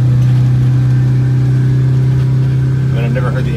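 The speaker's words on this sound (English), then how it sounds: "I've never heard the engine sound like that. Or the turbo go." A Detroit Diesel 8V92TA turbo diesel bus engine drones steadily with a deep, throaty low hum, close and loud, with a brief rise at the end, after a turbo boost fix.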